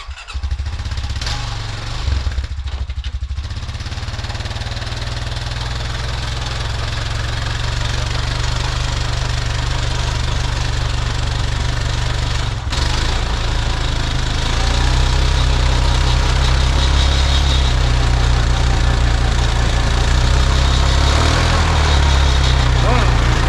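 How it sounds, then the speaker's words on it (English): A machine hauling a heavy load runs its engine with a loud, steady, low rumble that grows slightly stronger toward the end. There is a brief dip near the start. "We'll see how the machine pulls this. That's a heavy load I got on there."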